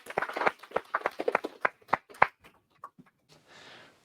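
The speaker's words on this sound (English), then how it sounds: "big round of applause for John" A small audience at a droid build presentation gives John a short round of applause, a handful of close, distinct claps tapering off into quiet.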